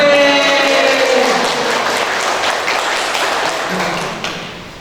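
Audience applause at a motivational talk on working better, a broad wash of clapping that starts full and gradually thins out over about five seconds, with no voices on top.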